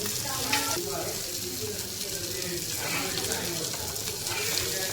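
Rawas fish sizzles loudly and continuously as it fries in a pan, a dense close crackle with slight bubbling swells and no break, with a voice faintly in the background.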